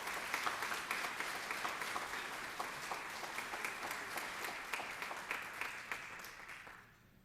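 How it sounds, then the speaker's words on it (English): Audience applause at a police department service awards ceremony, a steady dense wash of clapping from a sizeable crowd that carries evenly for several seconds before tapering off at the end. "Give him a round of applause."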